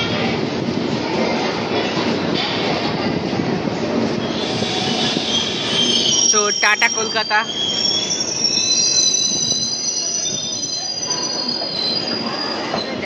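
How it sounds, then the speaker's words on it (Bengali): The Jammu Tawi Express pulling out of Kolkata railway station, with loud continuous rumbling, clattering wheels and high metallic squeals from the wheels, heard close with brief talking over it. "আর আমাদের Jammu Tawi express Kolkata railway station থেকে কিন্তু ইতিমধ্যেই ছেড়ে দিল।"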